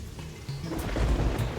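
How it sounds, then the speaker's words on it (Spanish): Rain with a low rumble of thunder from the video game Terraria, a brief stormy wash that swells after a quiet start, with no talking. "y porque está lloviendo"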